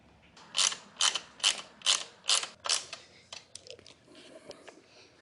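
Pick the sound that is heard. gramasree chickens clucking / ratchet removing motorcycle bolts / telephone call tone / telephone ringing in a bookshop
ratchet removing motorcycle bolts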